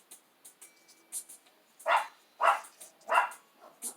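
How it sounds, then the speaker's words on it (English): Dogs bark repeatedly from a moderate distance, a run of three louder barks in the middle among smaller yips and barks. "Sorry for the dogs barking, y'all."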